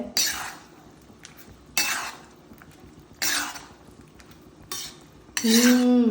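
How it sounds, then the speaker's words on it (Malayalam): A spoon scrapes and stirs chicken and mushroom in a pot in four separate bursts with quiet gaps between, and a short sizzle at the end. "നല്ലോണം ഇളക്കുക"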